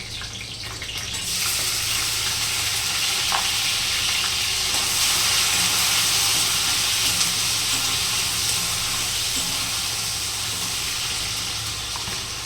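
Tomatoes dropped into a hot pan with fried red chillies and garlic, an abrupt loud sizzle that settles into a steady broad hiss, close up.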